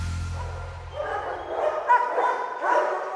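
A big Malinois police dog gives a few short yips and whimpering barks, moderately close, over a quiet background.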